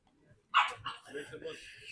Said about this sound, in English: See, look at this little dog.